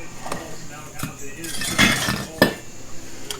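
Metal tool tapping on a 2006 Chevrolet Tahoe suspension part to knock it loose during lowering work: several sharp, separate metallic clinks and knocks at irregular intervals, close by, with faint background shuffling.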